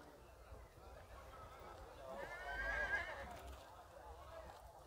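A horse whinnies at a livestock market in Nueva Guadalupe, a loud rising neigh in the middle amid crowd chatter, hoof clops and market bustle.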